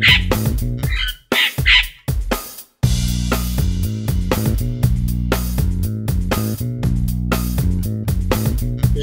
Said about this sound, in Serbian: Papagaj.